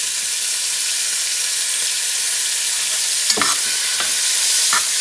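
Beef shanks searing in extra virgin olive oil, a loud broad hiss of frying that holds steady, broken by two or three brief knocks of a utensil against the pan.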